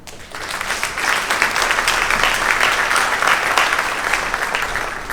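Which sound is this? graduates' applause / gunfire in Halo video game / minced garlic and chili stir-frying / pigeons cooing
graduates' applause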